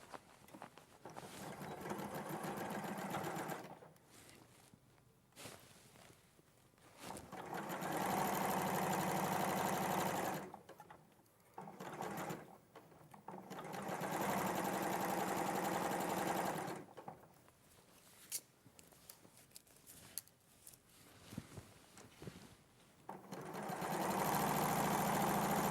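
Sewing machine stitching a seam, running in long steady whirring bursts of several seconds each, separated by short pauses, moderately close and with no speech over it.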